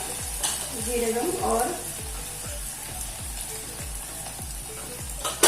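Coriander leaves frying in a pan give a continuous crackling sizzle, with a regular series of soft low thumps and a brief louder clatter near the end, and nobody speaking.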